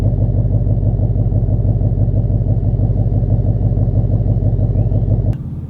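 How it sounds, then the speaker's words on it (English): A 2015 Ford Mustang GT V8 fitted with an MBRP catback exhaust, idling loud and close with a deep, lumpy rumble that continues steadily before cutting off abruptly near the end. "The major mod that he's done, the most significant one, is the MBRP catback exhaust."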